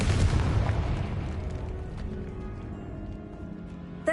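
Blast of the Confringo spell in the Hogwarts Legacy video game: a rumbling explosive boom that fades over a few seconds, ending with a short tonal cue.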